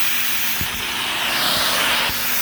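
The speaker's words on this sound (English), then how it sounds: "That's another positive about this hand tool is called the cure dry from Rotovac" A Rotovac Cure Dry hand tool extracts moisture from upholstery with a loud, steady, airy suction hiss that fills the whole moment, broken by a few faint low thumps, close up and without talk.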